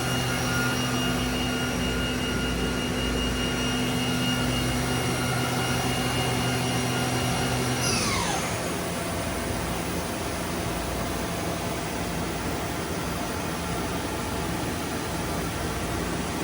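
A Mazak VCN 510 CNC vertical machining center spindle winding up to 7,500 RPM, a steady loud whine and airy hiss, with a tone sweeping upward partway through before settling into a continuous high spin.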